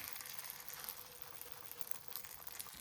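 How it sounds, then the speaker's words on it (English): Eggplant pieces sauté skin-side up in sesame oil in a pan, giving a faint, steady sizzle with soft crackles throughout and no talk. "Place the skin of the eggplant facing up, saute them from the surface."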